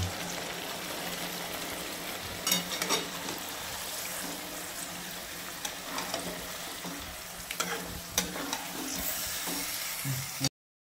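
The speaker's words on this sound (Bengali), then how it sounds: "এবার মাংসটাকে কষানোর জন্য এভাবে ছেড়ে দিয়েছে" Chicken pieces for Hyderabadi green chicken fry steadily in a pan, a continuous close sizzle broken by occasional stirring scrapes and clicks.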